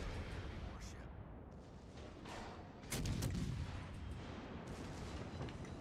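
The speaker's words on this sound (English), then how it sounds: "Why are you fucking shooting the battleship?" Naval guns fire in the World of Warships Legends video game, a rumble of cannon blasts with one heavier volley near the middle, fairly faint under a player talking.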